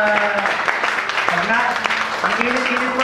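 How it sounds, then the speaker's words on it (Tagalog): A church congregation claps together for God, the applause running as a sustained patter under a speaking voice that continues over it. "Palakpakan natin ang Panginoong Diyos sa buhay."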